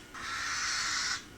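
A baby bird calls at feeding time with one harsh, rasping screech that lasts about a second. It is close and fairly quiet, and a second call starts just as the first ends.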